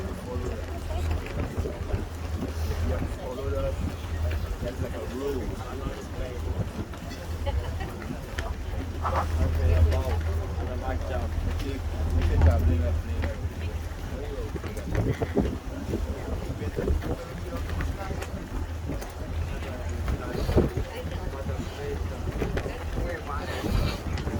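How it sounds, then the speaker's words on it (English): A sightseeing boat's motor drones steadily under heavy wind buffeting, with water rushing past the hull throughout, heading out onto Long Island Sound. "Our boat is leaving now for the ride, going out to the ocean."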